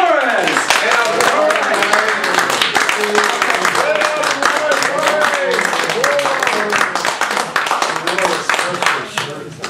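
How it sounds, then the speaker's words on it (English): An audience welcomes speaker Mike Flores with brisk, sustained clapping, while voices call out and talk over it throughout. "let's have a warm round of applause for our speaker,"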